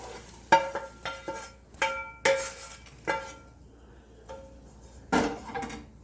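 Cashew nuts frying in oil while rice is prepared, with crackling sizzle under a series of sharp clinks and scrapes of a utensil against the pan, spaced irregularly.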